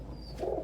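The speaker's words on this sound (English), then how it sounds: "My lap and shoulder and chest are full of birds, and Satin is trying to figure out if there" A pet bird gives a brief, soft coo from close by, indoors among several perched birds.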